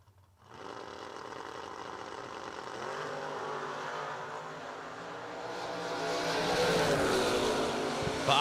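Drag race cars, a Camaro among them, launch down the strip at a Sunday race, with a loud high engine whine that builds steadily and grows louder as the cars pull away.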